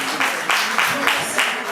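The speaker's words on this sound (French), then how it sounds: "le président d'honneur Kolo Yakake, que vous pouvez également applaudir" Scattered clapping from an audience at a Paris music show featuring young artists, several uneven bursts with a voice speaking over them.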